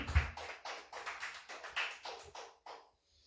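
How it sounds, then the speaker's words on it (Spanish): A church congregation claps in unison to praise the Lord, a steady rhythmic beat of about a dozen claps that slows and fades out after a few seconds. "Dele fuerte aplauso al Señor, hermano"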